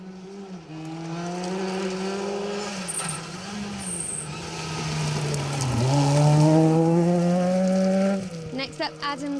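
A rally car on the first stage of the 2023 Cambrian Rally roars past with a loud, sustained engine note whose pitch rises and falls through gear changes, ending in choppy bursts as the revs drop.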